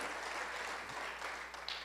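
A church congregation applauds together during a sermon, a soft, even patter of many hands clapping that sounds distant and faint throughout.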